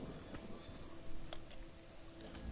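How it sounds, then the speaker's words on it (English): Rain falls in Elder Scrolls Online as a quiet, steady patter with scattered brief drop hits, the whole shower soft and distant. "I could do without this damnable rain"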